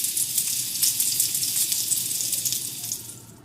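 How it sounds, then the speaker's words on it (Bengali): Chicken pieces frying in a pan, a steady bright hiss and sizzle close by that fades slightly at the end, no voices. "মুরগিগুলো ভাজা হতে থাক"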